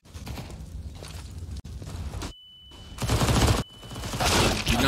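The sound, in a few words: pistol gunfire in Counter-Strike video game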